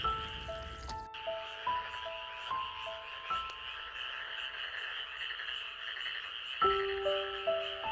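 Frogs croak in the open, a chorus of tonal calls repeating at irregular intervals over a steady bed of insect-like night noise, moderately near and fairly quiet.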